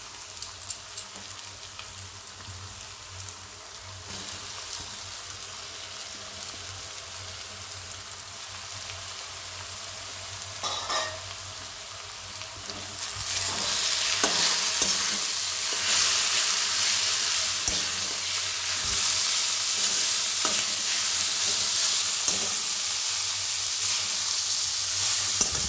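Mixed vegetables with turnip sizzle steadily in a pan for a pure vegetarian dry sabji, with scraping stirs; the frying grows noticeably louder and denser about halfway through, then holds a continuous hiss.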